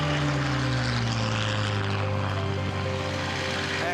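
A Spitfire's piston engine and propeller drone loudly and steadily for the whole stretch as the plane is thrown around the sky in flight. The pitch sags slightly, and no voices break through.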